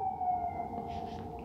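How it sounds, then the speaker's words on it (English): A steady wailing siren sounds at a distance, holding a sustained tone over background traffic noise. "excuse the siren"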